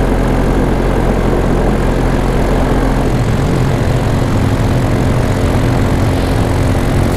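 Piper light aircraft landing, its propeller engine droning loud and steady from close by for the whole stretch, with no talk.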